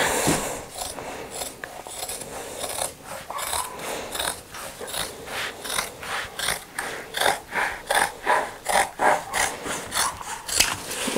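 Cutting strokes trim a leather piece for a vintage sewing machine case, a repeated rasping scrape that settles into a steady, quickening rhythm, close and moderately loud.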